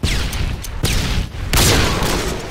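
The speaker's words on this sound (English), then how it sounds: "Throwing a stun grenade." A stun grenade goes off in a video game as a dense, loud burst of blasts and crackling booms layered over continuous gunfire, harsh and close.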